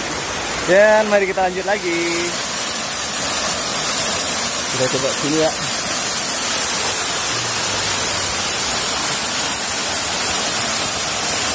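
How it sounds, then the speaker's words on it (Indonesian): Steady broadband rush of a waterfall, the first tier of Pincuran Tujuah at Lubuak Minturun near Padang, West Sumatra, fills the whole clip; voices speak briefly over it near the start and again midway. "Ini mungkin baru air terjun tingkat pertamanya."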